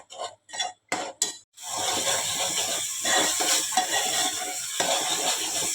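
Masala paste sautéing in a pan for a Kokan-style misal pav, with a steady close sizzle and hiss after a few short stirring scrapes at the start. A utensil occasionally clinks against the pan. No one speaks.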